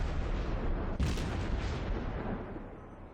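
Naval gunfire in the World of Warships video game sounds as a single heavy boom about a second in, rising out of a dense, rumbling battle din that stays loud throughout.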